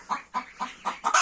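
Newly bought laying hens on a small poultry farm cluck in a close, rhythmic series of five or six short calls, the last rising into a louder squawk.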